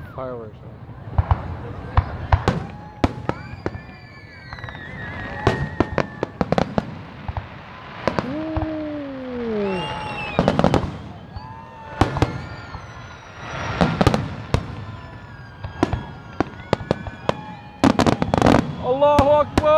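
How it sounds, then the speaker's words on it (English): Canada Day fireworks bursting in repeated loud bangs and crackles over about twenty seconds, with whistling rising tones, cheering crowd voices and excited shouting mixed throughout. "I love fireworks."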